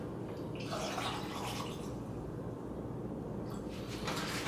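Water is poured into a Nutribullet blender cup already holding pineapple juice for a beetroot drink, heard as two faint splashing bursts separated by a quiet pause.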